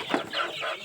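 Pure native country chickens clucking up close, a few short throaty clucks in quick succession with no one talking.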